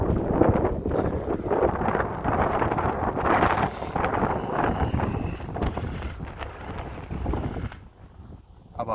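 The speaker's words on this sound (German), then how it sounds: "Und wir stehen wieder im Wind." Strong wind buffets the microphone at Silves castle in Portugal, a loud, continuous, gusting rumble with rustling, easing briefly near the end.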